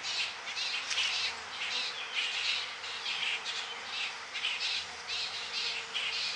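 A swarm of honey bees drones steadily at a hive entrance as they fan, a dense close buzz rising and falling in gentle waves throughout with no voices.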